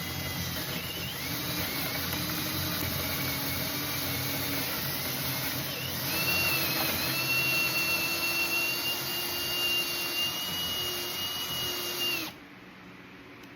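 A power drill cuts steadily into a cabinet workpiece with a sustained, loud whine that holds pitch, rising slightly partway through, then stops abruptly once the stop ring meets the plastic, leaving quiet room tone.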